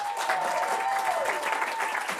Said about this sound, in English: So give Kelly a round of applause, if you will.